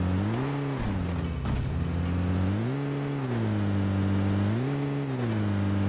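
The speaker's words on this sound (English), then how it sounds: "Get in the car!" Car engine in the PUBG Mobile video game, a loud, continuous droning hum that rises and falls in pitch as it revs up and eases off several times, with no voices over it.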